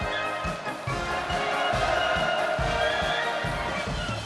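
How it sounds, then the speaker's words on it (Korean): A large crowd of faculty and students at Kim Il Sung National Defence University roars in continuous, enthusiastic cheering as Kim Jong Un arrives for the school's 60th anniversary, with a steady rhythmic chant-like pulse beneath the din. "김정은 동지께서 도착하시자 열광의 환호성이 세차게 분출했습니다"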